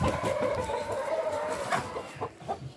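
A young rooster chick clucks close by in a series of short, uneven clucks, with light farmyard noise behind it.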